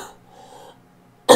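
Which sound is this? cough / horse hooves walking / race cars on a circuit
cough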